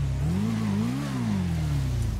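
A superbike engine in GTA 5 revs up and down, a loud, close, smooth whine that rises, peaks and eases off again while the bike climbs onto a container, with no talk.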